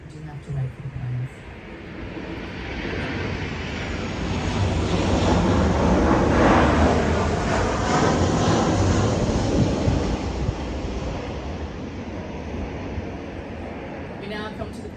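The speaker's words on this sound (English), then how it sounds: "You do have to wait for the planes." Propeller or jet airplanes fly overhead during an outdoor wedding vow renewal ceremony, a loud broad roar swelling toward the middle and slowly fading, with a brief voice near the start.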